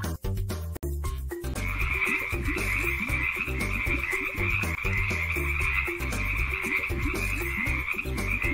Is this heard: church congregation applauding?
no